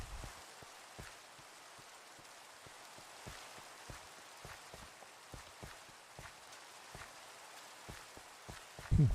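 Steady Minecraft rain patters on a surface, with scattered louder drops ticking irregularly against a soft, quiet hiss.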